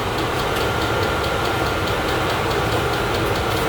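VEVOR diesel heater running and burning diesel, a continuous close rumbling hum with a faint rapid pulsing, steady and fairly loud throughout.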